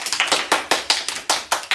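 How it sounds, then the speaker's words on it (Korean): Members of the K-pop group P1Harmony clap together during a livestream for their 1000th day, about nine close, crisp claps in a quick, slightly uneven rhythm with no talking. "박수."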